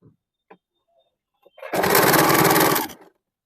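A sewing machine stitches the side seam of a suit sewn from an old saree, running in one steady, close whirring burst of just over a second after a few soft handling taps.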